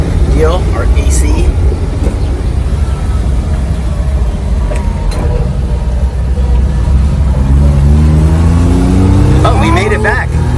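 Engine of a mini Japanese four-wheel-drive truck running after sitting ten years, a loud steady rumble with rising revs toward the end, heard close under ongoing talk.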